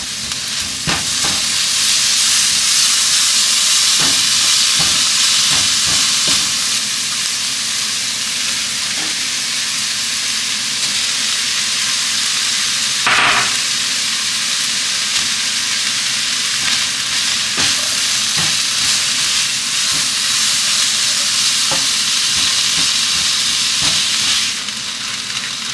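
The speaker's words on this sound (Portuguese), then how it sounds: "Agora a gente vai deixar isso aqui refogar bem antes da gente colocar o arroz e cozinhar." Onion, garlic, bell pepper and tomato, added frozen, sautéing in a pot before rice goes in, giving a loud continuous close sizzle with occasional stirring scrapes and no talk.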